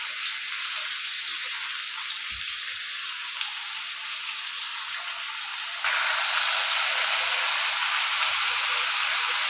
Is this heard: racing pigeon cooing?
no